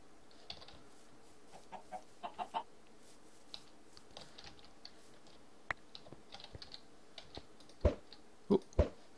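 Chickens cluck faintly in the Technicality 3 modded video game, with scattered keyboard and mouse clicks and a few louder clucks near the end. Quiet, with no talk.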